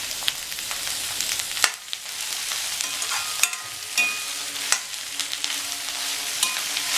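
Vegetables with onion and curry leaves sautéing in a pan, a continuous close sizzle broken by repeated scraping stirs and occasional sharp clicks of the spoon against the pan.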